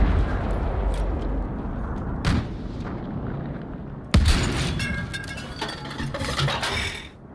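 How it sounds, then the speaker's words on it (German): Bombs exploding in the Battlefield V video game, with a rumbling battle backdrop, a sharp blast about two seconds in and a louder, heavier explosion later that rolls off into debris and gunfire. "Oh, da ist eine Bombe."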